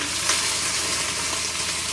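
Garlic and sugar sizzle in a pan with pork belly, a close, bright, continuous hiss with small crackles and no talk.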